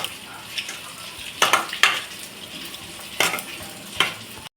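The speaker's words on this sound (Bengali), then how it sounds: "এবার একটু ভালো করে মাখিয়ে নেব।" Raw prawns being worked together with turmeric, cumin and other ground spices by hand in a bowl, giving soft wet squelching and a few sharper clacks against the dish, close and fairly quiet.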